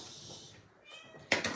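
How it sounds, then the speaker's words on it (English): A house cat meows indoors, two short close meows at the end after a quiet stretch of faint room noise. "we have kitty."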